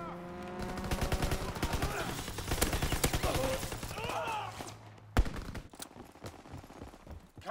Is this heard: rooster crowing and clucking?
no